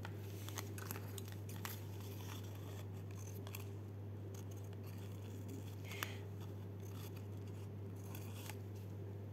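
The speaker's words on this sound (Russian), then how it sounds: "я тут вырезаю пока портными ножничками цветочки" Tailor's scissors snip through paper to cut out small flowers, making repeated close, crisp clicks and soft cutting rasps over a steady low electrical hum.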